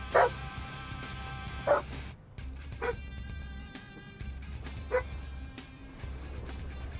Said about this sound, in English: The puppies love harassing the big dogs.